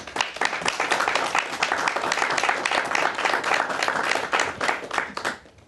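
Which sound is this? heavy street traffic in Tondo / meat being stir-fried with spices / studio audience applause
studio audience applause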